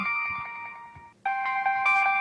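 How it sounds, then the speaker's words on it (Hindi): A mobile phone plays a melodic electronic ringtone, loud and close, with repeating tonal notes, a brief gap, then a brighter phrase that keeps ringing with no voices over it. "तो मेरा फोन बज रहा है"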